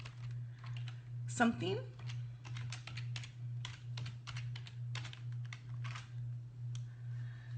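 Typing on a computer keyboard while editing a social media graphic, heard as quick irregular clusters of clicks near the mic over a steady low hum, with a brief louder bump of noise early on and a voice speaking briefly.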